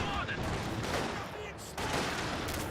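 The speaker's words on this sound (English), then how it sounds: "MG34 providing some good fire support" MG34 machine gun fire in the Company of Heroes 2 video game: dense, continuous battle gunfire with crackling bursts throughout, a steady wash of shots at moderate loudness.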